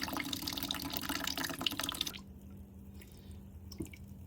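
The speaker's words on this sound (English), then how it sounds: "I've now removed the plug just to let the last bit of water run out." Water splashes and trickles out of a car radiator as it drains, a busy stream that stops abruptly midway, leaving faint scattered drips.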